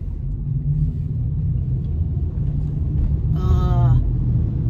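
A car's low, steady cabin rumble continues under someone talking as she drives home in Honolulu, the road noise close and unbroken.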